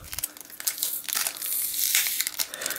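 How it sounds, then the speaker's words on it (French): Adhesive tape is slowly peeled from a Pokémon Black & White Plasma Freeze duo-pack, giving close crinkling, tearing and crackling plastic noises in irregular bursts that swell and fade. "faut que j'enlève le scotch doucement"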